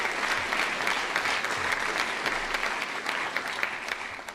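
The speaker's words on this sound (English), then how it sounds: "So one last round of applause for her" A university lecture-hall audience gives sustained applause, dense clapping holding steady for several seconds with no speech over it.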